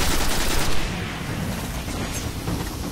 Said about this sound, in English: Shoot the gate.